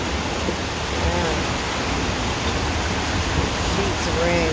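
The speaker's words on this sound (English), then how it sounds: "Sheets of rain. This is monsoon right now." Heavy monsoon rain pours down in Verde Valley, Arizona, a dense, steady hiss of falling water that holds level throughout, with faint voices in the background.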